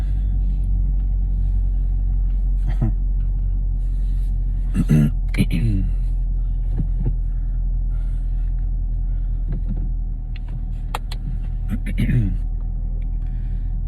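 A steady low rumble from inside a moving car runs throughout, with a person talking over it and occasional clicks and thumps from the cabin.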